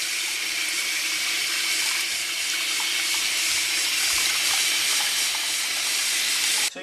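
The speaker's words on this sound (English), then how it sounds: "start filling up your sink with water" Tap water running steadily into a bathroom sink and bowl, a constant broadband rush at even loudness from start to finish, stopping abruptly near the end.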